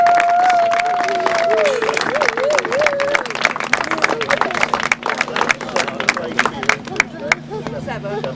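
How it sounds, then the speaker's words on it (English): Crowd applause at a grasstrack racing meeting, steady clapping with scattered cheers running throughout, while a public-address voice and a sustained tone sit over the start. "So a big round of applause there for all the youth juniors."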